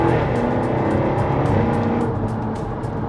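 Supercharged 5-litre V8 of a Jaguar F-Type V8 R roaring loudly and continuously, a dense, steady engine blare with slight fluctuations in intensity and no voices.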